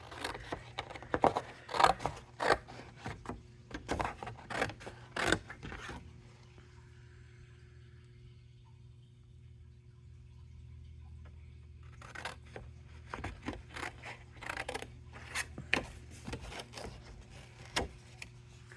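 Paper flowers for a birthday card being cut with scissors, bursts of snips and crisp paper scraping close by, with a quieter pause in the middle before more cutting.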